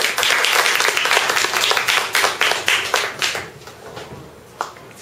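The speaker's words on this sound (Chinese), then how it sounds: "我们给那个关关的学弟们掌声鼓励" An audience at a live talk event claps for several seconds, a dense burst of applause close by that thins out and fades to a few scattered claps.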